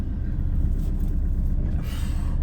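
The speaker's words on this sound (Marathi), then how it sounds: "टाटाची जुनी गाडी भरपूर पावर आहे" Engine of an old Tata vehicle idling steadily, a continuous low rumble throughout, fairly loud and close, with no talk.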